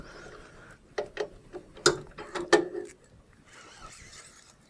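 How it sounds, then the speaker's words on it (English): Heavy idler pulley being lifted off its support bracket during a belt replacement on an LI-3100C, a short run of sharp metallic clicks and clanks, close and fairly loud, then a quieter rustle. "We'll start by lifting the idler pulley off the support bracket away from the groove here."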